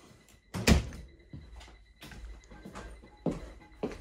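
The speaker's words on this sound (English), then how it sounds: "So behind this door right next to your main entrance, it's one of those pivot style doors" A pivot-style door beside a house's main entrance is opened, giving a loud thunk followed by several softer knocks and shuffles.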